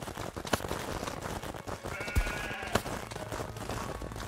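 Sheep in the game Craftopia bleating a few times over a dense, busy game soundscape, with short calls standing out close by against constant background noise.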